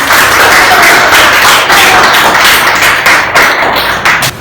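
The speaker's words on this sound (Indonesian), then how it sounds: "berikan tepuk tangan kepada diri kita" Students in a school classroom clap for themselves after finishing an assignment, a loud, dense burst of close hand clapping that continues throughout.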